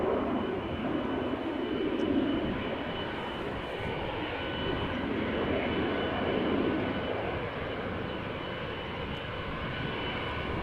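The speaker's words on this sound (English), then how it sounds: "United Flight 21, Boeing 777-200 outbound to Houston," A United Boeing 777-200 jet outbound to Houston taxis or departs at Amsterdam Schiphol Airport, its engines a steady, fairly distant broadband roar that swells and eases slightly over time.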